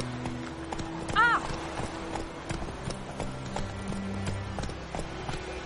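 A horse in the fantasy role-playing game The Witcher 3: Wild Hunt gallops with rhythmic, steady clip-clopping hoofbeats and a brief whinny early on, under voices talking and game music.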